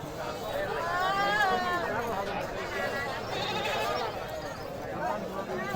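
Goats bleating at a busy livestock market, several wavering calls near and farther off, over a steady babble of crowd voices and chatter.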